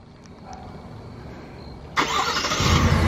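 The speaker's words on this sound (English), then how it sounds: "let's go ahead and crank it up" A new 2021 car's engine cranks and catches about two seconds in, then settles into a steady, close idle.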